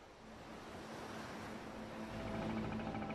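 Ocean waves and surf off the Sri Lanka coast roll steadily as a broad, continuous wash, swelling louder toward the end with wind-like hiss and no voices.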